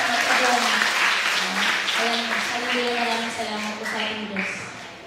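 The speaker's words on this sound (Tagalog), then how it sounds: "Bigyan natin ng malakas na palakpak si Pastor Roy" A church congregation applauds during a Sunday service, clapping filling the room while a voice speaks over it amplified, the clapping strongest at first and then tapering under the ongoing talk.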